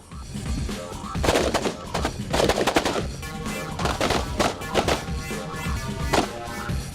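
Carbine rifles fire on an outdoor shooting range, a ragged string of sharp overlapping shots from several shooters, loud and close, continuing for several seconds.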